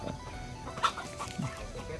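Chickens on a rural Thai farm by the water, with a few short clucks rising briefly over a steady outdoor background.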